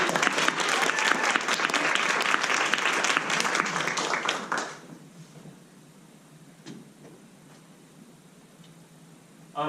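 Dense audience applause rings out for performers at a Level 1 class show, loud and sustained for several seconds before abruptly dropping off into a quiet room with faint stray sounds.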